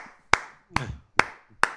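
Four sharp hand claps in an uneven rhythm, close and loud, with brief silence between them and no talk.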